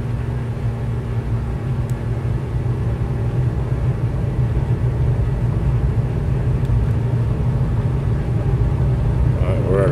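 The twin engines of a Diamond DA62 in Microsoft Flight Simulator 2020 run at full throttle on the takeoff roll, a steady, loud, even droning hum that holds without a break.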